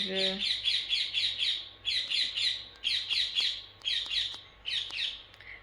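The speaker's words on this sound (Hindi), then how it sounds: "चिड़िया बोल रही है" Repeated bursts of bright bird squawks and chirps in quick clusters, fairly close and loud, with short pauses between groups.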